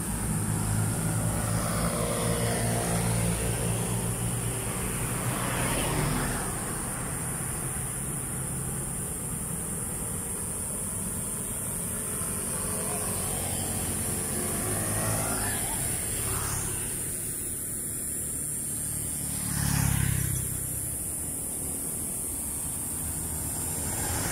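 Light road traffic in Cabuyao, Laguna, with cars and motorcycles passing one after another under a steady broadband roar, a closer vehicle swelling past near the end.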